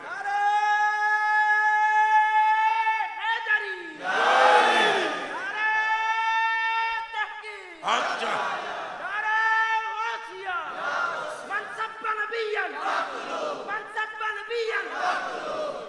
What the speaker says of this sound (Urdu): کہو پھر نعرہ حیدری